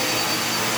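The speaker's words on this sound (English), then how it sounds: "we're going to go ahead and vacuum the kitchen a little bit too" A Dirt Devil Endura Reach vacuum cleaner runs steadily in a kitchen, a loud, even broadband whine and rush with no pauses and no voices.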